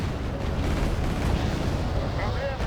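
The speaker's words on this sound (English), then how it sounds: "Okay, the Nanushka's firing." A Nanuchka corvette firing its weapons in Wargame Red Dragon during a marine landing, a rapid run of heavy booming shots with rumbling low-end blasts packed together, loud and close.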